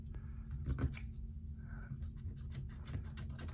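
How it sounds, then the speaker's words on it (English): Several quiet snipping and cutting sounds from scissors working through tough, fatty eye tissue during a dissection, with soft wet handling noises in between and no talking. "Get the scissors in here to kind of try to cut through this."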